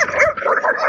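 A wild dog in Morocco gives a brief, close, loud bark mixed with yipping and whimper-like tones, lasting under a second.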